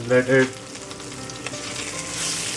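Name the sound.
Kashmiri red chili frying briefly in oil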